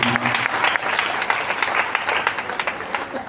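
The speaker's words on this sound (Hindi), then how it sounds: "एक जोरदार ताली माता श्री राधिका रमन" Loud, dense applause from an audience at a Srimad Bhagavat Katha religious discourse in Patna, a continuous crowd of clapping hands that stays strong throughout.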